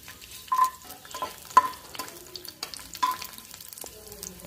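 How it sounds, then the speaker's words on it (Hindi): Lentils and finely chopped garlic fry in a kadhai for a tadka, a soft, close sizzle with scattered scraping and stirring sounds from a spoon. "कढ़ाई चढ़ा के दाल डालेंगे, बारीक कटी लहसुन,"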